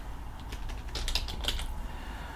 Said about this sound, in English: If I type Spotify,